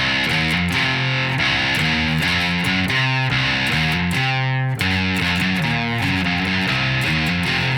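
Distorted electric guitar plays the repeating bridge riff of a song, chugging palm-muted notes alternating with sustained chords and a descending slide, loud and steady with no voices.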